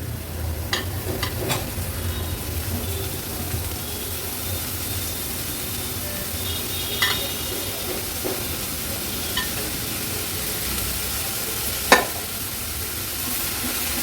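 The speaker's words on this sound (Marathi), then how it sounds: "गॅसची फ्लेम मी हाय करते हाय फ्लेमवर थोडीशी परतून घेते" Spinach and moong dal sauté in a pan over a high gas flame, giving a steady close sizzle and hiss with a few sharp scrapes of a spoon stirring, with no talking.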